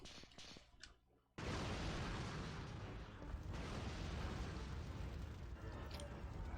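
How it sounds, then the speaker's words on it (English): Sudden massive blast in the Resident Evil 3: Nemesis survival horror game, a sharp onset followed by a sustained roaring, crackling explosion that fills the sound for several seconds. "extreme explosions."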